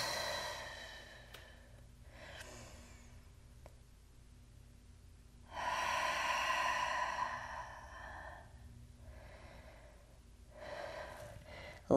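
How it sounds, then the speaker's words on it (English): Slow deep breaths during a home Pilates full-body workout, long airy inhales and exhales rising and falling in separate waves, close and fairly soft. "Take a couple deep breaths."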